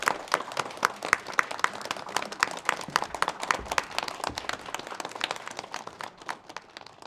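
Scattered claps from a lecture audience welcoming an academic speaker, sparse individual hand claps in a loose irregular rhythm, fairly faint and not a full ovation.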